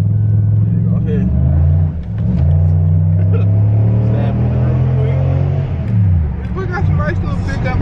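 A Chevrolet SS with an LS V8 accelerates nearby, its deep throaty engine note climbing in pitch through several gear pulls with brief dips between, and people talking over the rumble.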